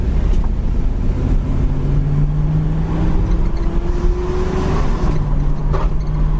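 A red 1979 Camaro on oversized tires cruises down the road. Its engine note climbs steadily, then drops as the automatic transmission shifts, and the engine hums on under road and wind noise.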